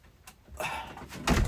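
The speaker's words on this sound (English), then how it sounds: "I better close the door" An indoor door swings shut, giving a soft thump followed by a louder, heavier closing thud about a second later, close by with no talking.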